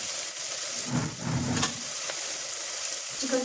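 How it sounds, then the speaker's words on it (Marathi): Onion fries in hot oil for a spicy chicken dish, a loud, steady close sizzle with brief bursts of stirring and scraping in the pan and no voices. "चांगली अशी परतून घ्यायची कांदा चांगला परतून झाल्याच्यानंतर"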